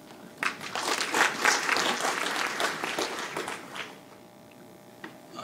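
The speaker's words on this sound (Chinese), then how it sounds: "让我们鼓掌欢迎讲者" An audience at the PyCon TW 2019 Python conference claps to welcome a speaker, a moderately quiet round of applause that swells, then thins out and fades after about four seconds.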